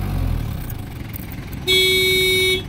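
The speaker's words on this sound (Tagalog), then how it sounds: "Boss, horn! Horn!" A Japan-surplus Isuzu single-tire truck sounds its horn with one loud, steady blast just under a second long. Before it, the idling engine rumbles close by.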